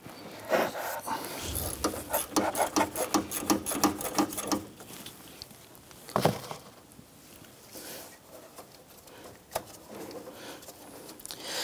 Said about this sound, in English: Using a 13 millimeter socket, we're going to go ahead and remove the anchoring nut here on the upper AC condenser line.